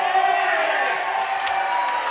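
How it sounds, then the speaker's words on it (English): Crowd cheering and whooping from the neighbouring rink at a lawn bowls pennant semi-final, a steady roar of many voices with scattered shouts rising over it throughout. "Another cheer for the Schreiner rink next door"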